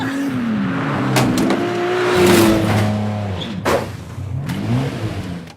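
A car engine revs and drones loudly as a drugged driver struggles to get home in a film scene, its tone climbing and dipping with a few sharp knocks and clatters in between.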